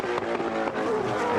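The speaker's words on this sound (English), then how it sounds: "Look at the approach speed of this car over the crest into Molecombe" A GT3 race car at the Festival of Speed sweeps in over the crest into Molecombe, its high engine note loud and close with a pitch that sweeps and shifts.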